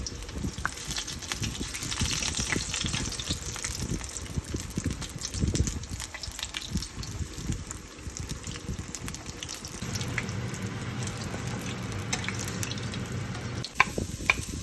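Butterfish sizzling in hot oil as it fries to golden brown, a steady crackling hiss that runs throughout, with occasional clinks and a brief knock near the end.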